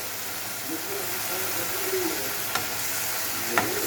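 Shrimp paste frying in a pan, sizzling with a steady hiss and a couple of sharp utensil clinks near the end.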